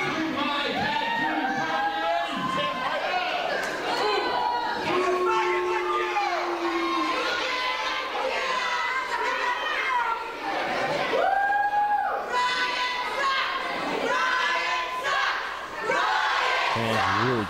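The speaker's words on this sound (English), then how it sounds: "Fans really getting on Brian Fury." Wrestling arena crowd jeering a wrestler, Brian Fury, a dense roar of many voices with shouts rising and falling throughout, loud and sustained, with voices talking over it.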